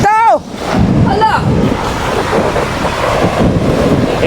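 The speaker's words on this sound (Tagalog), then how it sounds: "Ang alon, mga bungsing na po." Floodwater waves surge and churn near a gate as a flood reaches a hut, a loud continuous rushing wash with a short shouted voice at the start.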